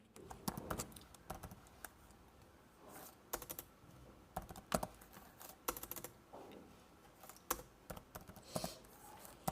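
Fingers type on a computer keyboard entering an address, a steady run of close, crisp key clicks in uneven bursts with brief pauses, no voices.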